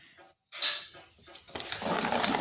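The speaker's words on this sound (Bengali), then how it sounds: "এইভাবে ফেটাতে হবে 8 থেকে 10 মিনিট" Boondi batter being whisked in a bowl, with scraping and clinking strokes against the bowl that grow into a steady, fast rhythm near the mic; no talk.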